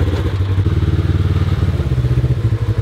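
A rented buggy's rear-mounted engine runs close by, a loud steady rough idle with a rapid pulsing throb and mechanical clatter, no voices over it.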